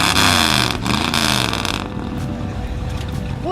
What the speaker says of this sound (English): Rev that up again. That thing sounds sweet.